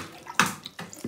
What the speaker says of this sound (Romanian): apa din el o vom scurge într-o chiuvetă